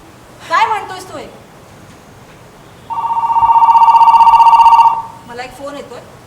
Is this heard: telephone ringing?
yes